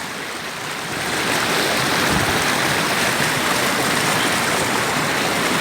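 A shallow stream rushes between stones in a steady, close, broadband wash of flowing water that swells slightly after the first second and continues without a break.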